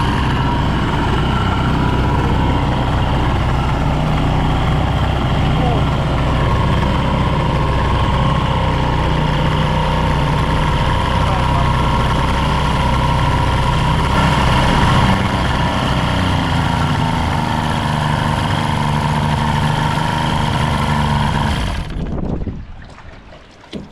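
Rebuilt 1976 Mercury 650XS race outboard motor running steadily and loud at a near-constant idle for about twenty seconds, then cutting off abruptly near the end.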